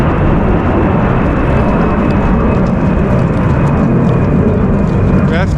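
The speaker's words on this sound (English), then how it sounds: "It is Saturday and there are always the planes" Loud, continuous roar of an airplane passing close overhead, a broad rumbling engine noise that dominates throughout with wind buffeting.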